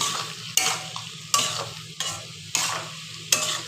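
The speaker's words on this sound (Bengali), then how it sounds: "বেগুনটাকে ভালো করে কষিয়ে নেব আলু বেগুনটার সাথে ভালো করে মিক্সড করে নেব" Eggplant and potato fry in a pan under a soft, continuous sizzle, while a spoon scrapes and stirs in sharp strokes about every three-quarters of a second.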